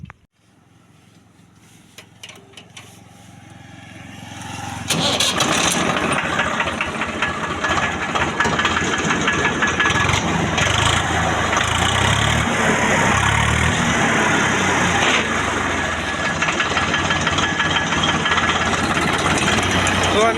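A tractor engine starts after a quiet moment and settles into a steady, loud, rumbling idle that continues close by to the end.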